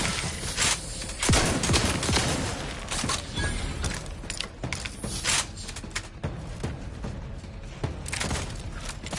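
Rapid bursts of gunfire from a firefight in the Outer Worlds 2 video game, crackling loudly in clusters and scattered single shots across the whole stretch, with footstep-like thuds between them.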